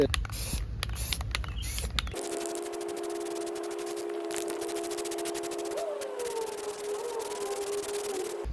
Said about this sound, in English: I'm gonna give it a shot of some spray paint